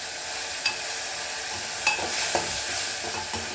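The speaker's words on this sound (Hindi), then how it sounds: "प्याज डाल देंगे।" Onions frying in oil in a pan for palak paneer, giving a dense, even sizzle with occasional soft stirring clicks and no voices.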